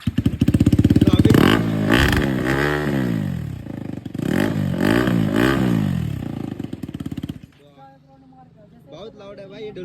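A KTM Duke 390 motorcycle with a loud aftermarket exhaust, baffle removed, revs hard at close range, the blips climbing and falling in repeated bursts before it drops to a rough idle, with a voice talking over the end.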